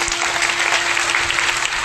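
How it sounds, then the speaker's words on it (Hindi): Loud, dense clapping from a gathered crowd at a Patanjali devotional gathering, continuous and even throughout with a faint steady tone running underneath. "एक बार तालियां बजाइए।"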